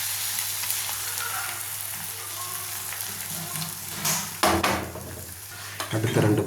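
Beaten egg for a bread omelet poured into hot oil in a pan, giving a steady faint sizzle with scraping and clinks of a utensil against the pan growing louder toward the end.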